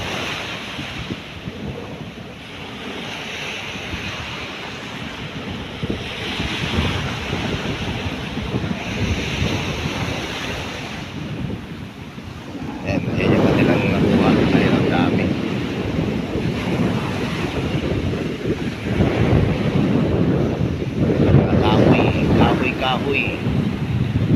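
Big waves surge and crash along Manila Bay under strong typhoon wind during Typhoon Carina, a broad roaring wash with buffeting wind on the mic that grows louder and heavier about halfway through.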